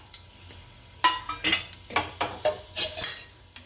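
Whole chillies, cinnamon, cloves and pepper drop into hot oil with mustard seeds, crackling and sizzling in a row of sharp pops and spatters, with metal stirring clinks in the pan.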